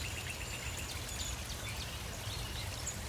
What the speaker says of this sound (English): when I hear the water